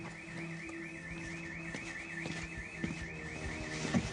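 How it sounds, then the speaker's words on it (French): A house burglar alarm sounding from a property, a repeating electronic warble cycling steadily with a lower steady tone beneath, heard from some distance with faint background noise. "Première intervention dans une propriété dont l'alarme vient de se déclencher."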